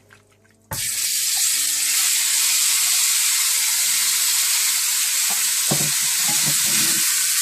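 Chicken pieces drop into hot sesame oil, bursting into a loud, steady sizzle after a brief quiet moment, with occasional clinks and stirring noises from the pan, close and continuous.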